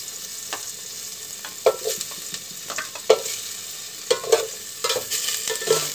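Ginger sizzles in a pan while being stirred for native chicken tinola, a steady fry hiss punctuated by irregular scraping and clinking stirs, close and fairly loud.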